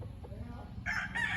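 A gamecock being conditioned for cockfighting crows near the end, a bright strained call rising over a low rumble of background noise, with a faint clucking note earlier.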